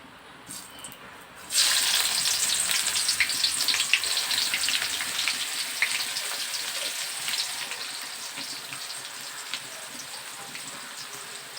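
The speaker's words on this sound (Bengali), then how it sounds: "একটু ভেজে নিব।" Chopped onions hit a hot pan and burst into a loud, close sizzle after a quiet first second or so, then settle into a steady crackling hiss that gradually eases.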